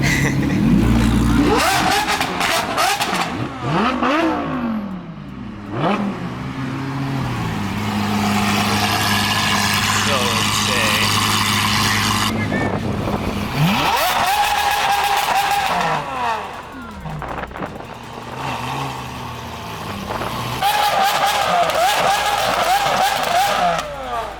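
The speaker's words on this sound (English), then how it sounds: "there is cars revving like crazy" Car engines, including a Lamborghini Aventador, rev hard and repeatedly at a night car meet, rising and falling pitches overlapping in loud bursts, with tire squeals and a busy outdoor crowd feel.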